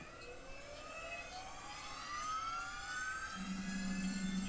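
A Boeing 737-300 jet engine in X-Plane 11 spools up from the outside view, its whine climbing steadily in pitch over a rumbling roar that grows louder, with a low steady hum joining near the end.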